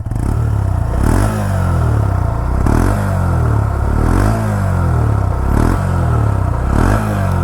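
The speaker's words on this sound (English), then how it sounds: "Let me give a bit of a throttle." A Honda CB 125 Hornet motorcycle engine is blipped with the throttle several times, its exhaust rising and falling in repeated revs close by, with no talking.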